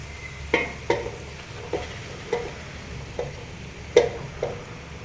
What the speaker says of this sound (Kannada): ಇವಾಗ ಚೆನ್ನಾಗಿ ಫ್ರೈ ಮಾಡ್ಕೊಬೇಕು